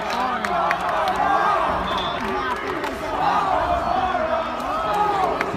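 Wrestling arena crowd at a WWE NXT show in Las Vegas, a sustained roar of cheering voices and shouts filling the space, with a commentator talking over it throughout.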